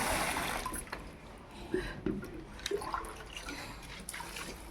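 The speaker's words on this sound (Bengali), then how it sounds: "আসলাম যখন একটু গাছে জল দিয়েই দিই" Water poured onto garden plants, a soft continuous trickling and splashing with a few small irregular spatters, fairly quiet and close.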